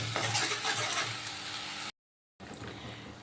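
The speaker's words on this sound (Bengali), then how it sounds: "এবার আমি মশলাটা ভালো করে কষিয়ে নেব এইভাবে মশলাটা একটু ভালো করে কষাতে হবে" A spice paste sautéed and stirred in a pan for a coriander rohu fish curry gives a steady close sizzle with scraping strokes, broken by a short silent gap before the frying noise resumes.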